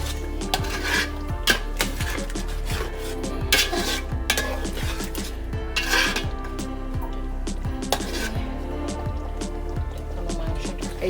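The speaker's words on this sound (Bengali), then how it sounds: "এই যে এখন আমি আলুটা দিয়ে দিলাম। আলুটা দিয়ে একটু নেড়ে রেখে দিলাম" Potatoes tipped into a pot of beef tehari and stirred, with steady metallic scraping and clinking of a spoon against the pot, close and continuous, with no talk.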